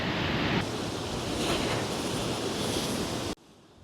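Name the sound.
sea waves breaking on the shore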